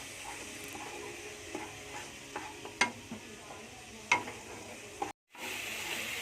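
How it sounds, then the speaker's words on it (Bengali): Spice paste with turmeric and chili powder sautéed in a pan, a moderate steady sizzle with spoon scrapes and a couple of sharp metallic clinks, then a brief silent gap. "মশলাটা ভালো করে কষিয়ে নেবো"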